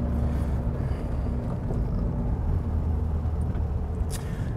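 A Peugeot 504 cruising on a rough road, with a steady, loud low engine and road rumble heard from inside the cabin, continuous with no clear separate braking event.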